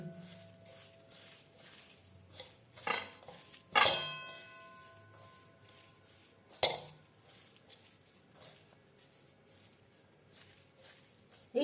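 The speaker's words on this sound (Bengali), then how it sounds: "কড়াইতে করে আমি পুর তৈরি করব তাই আমি কড়াইতেই মেখে নিলাম" Patishapta filling being mixed in a wok, with a few sharp metallic clinks and scrapes standing out over a quiet, low background.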